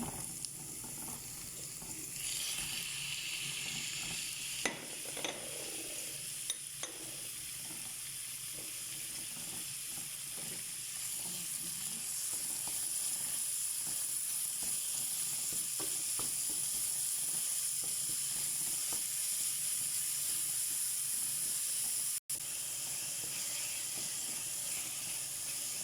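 Meat sizzles steadily in a hot frying pan as it is stirred, with scraping clatters from the utensil and a constant bright hiss that stays close and loud throughout, briefly cut out once near the end.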